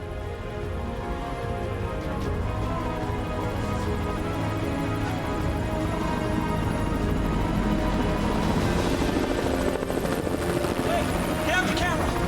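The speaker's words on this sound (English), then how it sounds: "We heard helicopters initially flying overhead" Helicopters fly overhead above a brutally narrow canyon, unseen through the slim gap: a steady, loud, broadband rotor drone holds for the whole span with no break.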